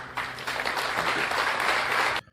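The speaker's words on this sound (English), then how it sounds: "you guys notice people are clapping after he answers a question from the press" A crowd at a Canadian political campaign event claps after a candidate answers a question from the press, a dense burst of applause that stops abruptly.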